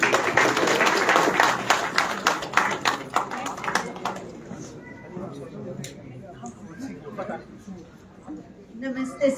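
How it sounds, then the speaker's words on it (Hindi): A crowd at an event at Indira Gandhi Pratishthan, Lucknow, claps together in a dense burst of applause that thins into scattered claps and murmuring voices. "उनके लिए भी एक बार जोरदार तालियां हो जाएं"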